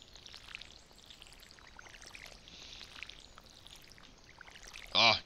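Water pours from a watering can over crops in Stardew Valley, a soft, trickling splash repeating in faint swells, followed by a short, bright chime at the end; no voices.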